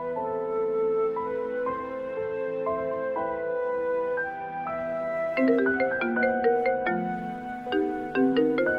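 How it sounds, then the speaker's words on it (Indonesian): An incoming phone call rings with a melodic ringtone, steady note patterns repeating and growing busier, playing on its own with no talk. "Itu telepon dari ayah. Jangan diangkat."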